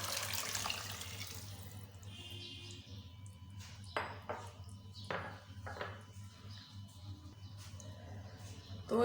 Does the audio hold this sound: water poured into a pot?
yes